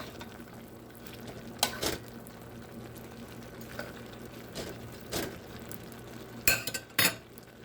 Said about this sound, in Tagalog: tingnan na natin itong ating nilulutong pansit. Halu-haluin lang natin.